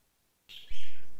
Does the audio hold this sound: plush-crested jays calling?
yes